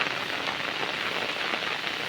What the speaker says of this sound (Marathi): अचानक बराच पाऊस चालू झाला आहे